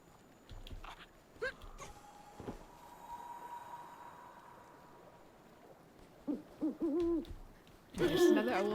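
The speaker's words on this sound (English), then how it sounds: "There's another owl." An owl in the video game Never Alone gives a few soft hoots set against quiet ambient game sound, followed by a louder rush of noise near the end.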